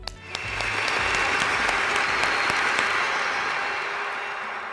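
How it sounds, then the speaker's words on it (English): Steady applause for honorees at a virtual humanitarian awards event, a dense wash of clapping that swells quickly and holds loud and even for several seconds before easing slightly. "Let's have a big virtual round of applause for these 2021"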